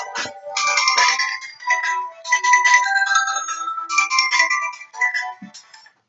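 A mobile phone ringtone plays indoors, a bright melodic electronic tune repeating in phrases for several seconds, loud and close, then cutting off.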